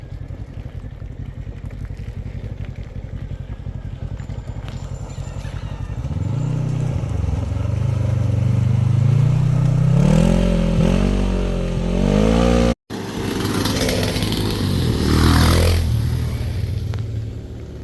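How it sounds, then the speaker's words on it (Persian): Motorcycle engines rumble past at close range by Lake Eymir in Ankara, rising and revving as they go by, with a brief cut midway before another bike roars through. "بچه این موتورها هم که دیدن رد شدن"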